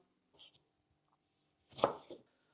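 A quick burst of knife strokes dicing tomatoes on a cutting board, a soft tap early on and then a dense cluster of chops near the end, close and fairly quiet with no voices.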